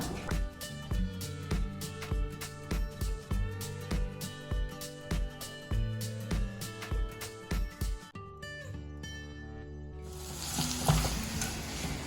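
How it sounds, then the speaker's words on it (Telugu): Ivy gourd (dondakaya) is tipped into a hot pan after a long stretch of rhythmic, tuneful music, then breaks into a loud, steady sizzle for the final couple of seconds. "సో ఇది పక్కన పెట్టేసి ఇప్పుడు ఫ్రై చేసేసుకుందాం"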